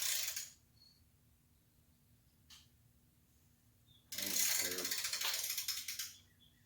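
A socket wrench ratchets a steel bolt into aluminum on a 139cc motorized bicycle: a short burst of rapid metallic clicking, a quiet pause with one faint tick, then a longer, louder run of clicks close by.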